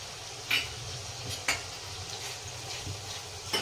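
Ginger, chili and dried garlic paste sizzles in a pan, with a steady low frying hiss and three sharp utensil scrapes spaced about a second apart.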